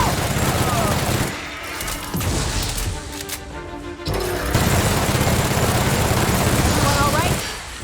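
Enemy gunfire in The Outer Worlds, loud bursts of rapid shots with a short pause in the middle, then renewed firing.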